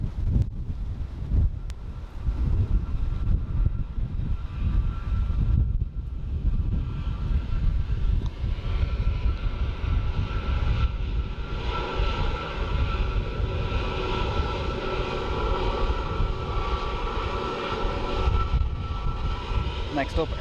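A landing airliner approaches Dublin Airport in a strong crosswind, its engine roar building steadily and rumbling loud and continuous under heavy wind buffeting on the microphone, with someone talking over it.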